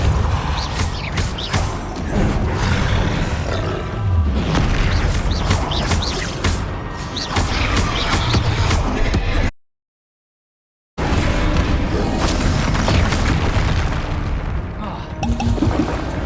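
Continuous loud magical combat from the Hogwarts Legacy video game as a Depulso spell is cast, a dense wash of blasts and rumbling effects that cuts out to silence for about a second and then resumes.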